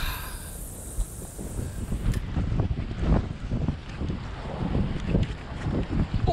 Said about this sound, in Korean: 바람이 그냥 오돌돌돌하네